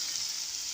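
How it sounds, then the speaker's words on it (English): Brown stew mutton frying in a pot, giving a steady, hissing sizzle, close and fairly soft, with no voices over it. "my brown stew mutton is in the pot here. Frying."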